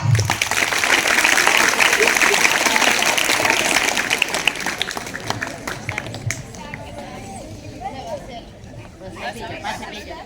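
Applause and crowd chatter at a Republic Day school event in Gulabnagar, clapping for a man praised for cleanliness work; a loud burst of clapping fades after a few seconds into softer murmuring and a voice.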